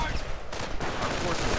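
MG42 machine gun bursts in a WWII strategy video game, rapid dense rattling fire over distant battle noise, with a voice talking faintly underneath.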